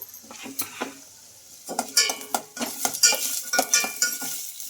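Chopped onions, green chillies and curry leaves tossed into hot oil, with a close, irregular run of utensil clinks and scraping stirs over a soft sizzle; no talking.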